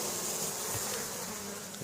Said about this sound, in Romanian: aici avem albine pe interval